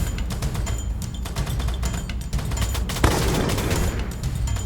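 Rapid machine gun fire in a shooting video game, dense overlapping bursts of gunshots rattling steadily for several seconds with a sharper burst near the end, loud and close.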